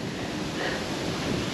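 Strong wind blowing outdoors on an open road in outback New South Wales, a steady broadband roar with gusty buffeting against the microphone throughout, no voices.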